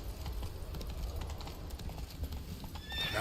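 The horse Roach in The Witcher 3 gallops with fast, rhythmic hoofbeats, and a sharp neigh rises near the end, all loud and close.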